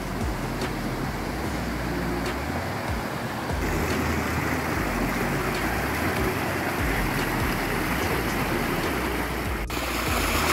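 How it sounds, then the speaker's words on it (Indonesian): Water splashing down a small waterfall beside a slippery rain-soaked footpath between Munjungan and Dongko, a loud, steady, close rushing wash that never lets up, with no voices. "kita ini lagi berhenti di sebuah air percikan seperti air terjun"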